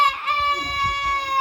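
A person imitates a chicken, holding a steady, nasal clucking crow through the whole moment, with faint background murmur underneath.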